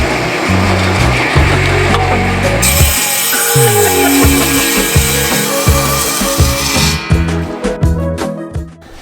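A power saw cutting wood pieces for a campervan floor, heard up close and loud in repeated rhythmic strokes with a rising whine midway and a clattering finish.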